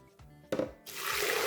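Hot liquid for a Haitian djak pwa dish poured into a blender, a brief clatter followed by a steady splashing gush that grows fuller, fairly quiet and close.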